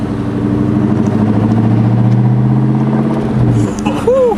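A loud straight-piped exhaust on a 2003 Cobra drones steadily with a deep, smooth rumble, rising in pitch near the end as the engine revs.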